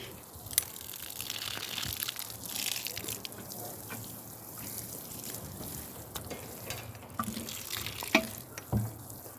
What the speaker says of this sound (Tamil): கொஞ்சம் தண்ணியும் நாங்கள் விட்டு விடுவோம் நட்ட உள்ளிக்கு